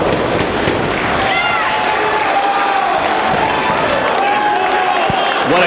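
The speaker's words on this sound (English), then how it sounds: "What a great crowd we have tonight here in Dorchester." A dense, loud wrestling crowd at a Ring of Honor show in Dorchester cheers and applauds continuously, with a roar of voices and whistles filling the space.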